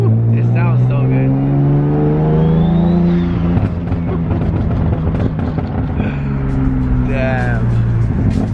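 A turbocharged car's engine revs hard from inside the cabin, a loud droning note climbing and falling in pitch, while passengers talk and exclaim over it.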